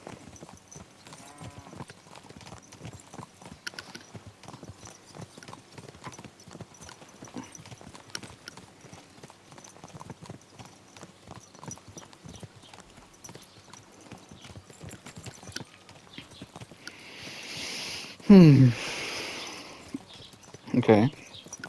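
Horse hooves clip-clop steadily in Kingdom Come: Deliverance II gameplay, a continuous walking rhythm under talk, with a louder burst and a whinny toward the end.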